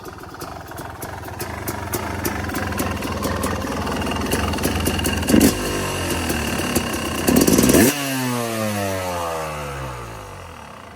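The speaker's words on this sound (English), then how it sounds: "So the 250 is just more deep sounding." A 250cc two-stroke motorcycle engine, freshly rejetted, runs loud and close with a rough, deep idle, two short blips of throttle midway, then shuts off and winds down to quiet.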